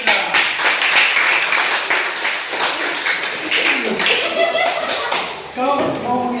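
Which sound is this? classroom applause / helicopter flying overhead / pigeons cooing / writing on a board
classroom applause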